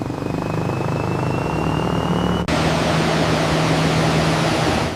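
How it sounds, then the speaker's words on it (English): A giant marine ship engine runs during its first test, giving a steady, loud droning hum with a constant low tone and a brief cut partway through before the drone resumes evenly. "The engine comes to life for the first time."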